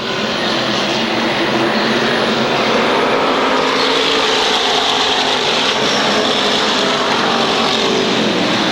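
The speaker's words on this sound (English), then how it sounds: "Down to earth, open wheel modified racing at its best right here on the confines of the Waterford Speedbowl." SK modified open-wheel race cars racing at the Waterford Speedbowl oval, a loud, continuous engine roar from the pack that holds steady throughout.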